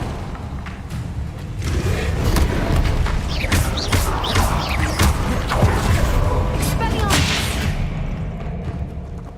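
Confringo explosion spells striking in Hogwarts Legacy during a duel, with booming thuds and whooshing impacts layered densely over several seconds, loud and continuous, alongside spoken spell incantations.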